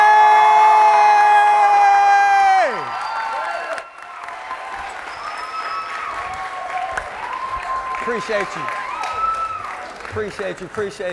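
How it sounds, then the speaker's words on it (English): A school motivational-speech crowd claps and cheers loudly, with whoops and children shouting, as a sustained tone fades out early on; the applause carries on under an amplified voice speaking over it. "that was a wonderful round of applause"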